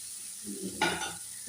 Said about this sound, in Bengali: ভালোভাবে নেড়ে নেওয়া হচ্ছে।